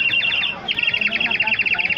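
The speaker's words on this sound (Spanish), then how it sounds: "Qué bien suena el pajarito, ¿eh?" At a Christmas nativity scene display in Algeciras, a small bird chirps in a quick run of bright, repeated tweets, fairly close and clear.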